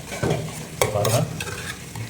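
Village-style fish curry with tomato simmers in a pan: bubbling and sizzling with a few sharp stirring scrapes, close and fairly loud.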